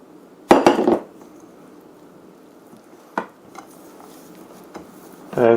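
Wheat starch is stirred into dumpling batter in a bowl, giving a cluster of clattering scrapes and knocks of utensil against bowl, then quieter isolated taps and another burst of stirring at the end.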